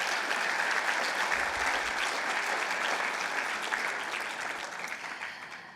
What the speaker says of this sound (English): I want to give you guys a round of applause.